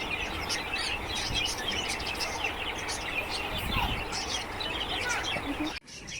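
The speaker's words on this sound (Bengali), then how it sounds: "এই যে দেখো কত পাখি এখানে" Many birds chirp together in a park aviary enclosure at Malbazar, forming a dense, continuous chorus of overlapping tweets close by that cuts off abruptly near the end.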